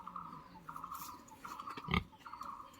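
Pigs on a pig farm in Assam give soft, repeated grunts at a low level, with a short louder thump near the middle.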